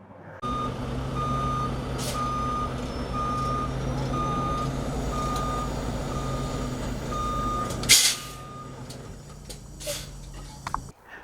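A semi truck reverses to slide its trailer tandems, its backup alarm beeping steadily at an even pace over a low diesel idle, followed by a sharp hiss of air brakes and a few clanks.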